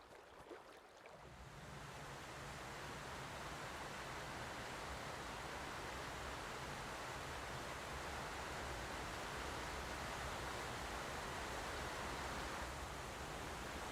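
The falls of the Yellowstone River in winter roar loud and steady as a constant broadband rush of water, swelling in over the first second and holding unbroken to the end.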